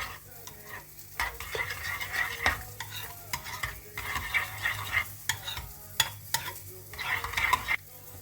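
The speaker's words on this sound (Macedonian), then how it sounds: "Измешајте." A spoon stirs tortilla burger filling with mustard in a pan, giving repeated scraping and clinking strokes in an uneven rhythm, with a light sizzle underneath, close and clear with no talking.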